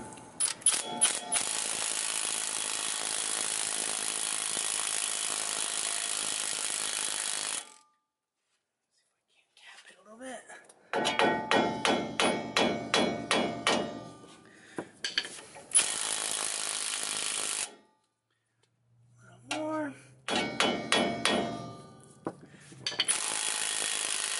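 Repeated hammer blows seat new wheel studs on a 2010 Ram 2500 Cummins Mega Cab, coming in several bursts of rapid metallic strikes, some ringing, separated by short silent pauses.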